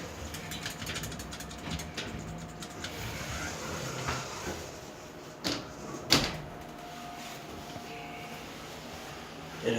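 Glass doors of a 2002 OTIS GeN2 machine-room-less traction elevator at a railway station slide and clunk, with a faint mechanical whine, a few sharp knocks near the middle and a steady background hum.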